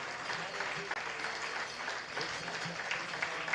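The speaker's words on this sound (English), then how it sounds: "big round of applause for them" A crowd applauding steadily, dense clapping from many hands that holds at an even level throughout with no break.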